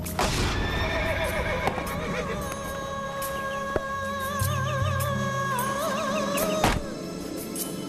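Several horses neigh and whinny loudly over steady clip-clopping hooves, with a few dull thuds in the background.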